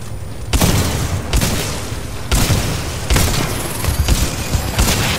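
Shotgun blasts from the video game Titanfall 2 boom out as about five loud, heavy shots spaced roughly a second apart, each with a sharp attack and a short decaying tail.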